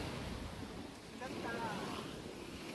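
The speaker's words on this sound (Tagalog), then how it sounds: "The sounds, the waves, it's so therapeutic." Ocean waves wash continuously along Boracay beach, a steady broadband surf roar mixed with wind buffeting the microphone, with faint indistinct voices in the background.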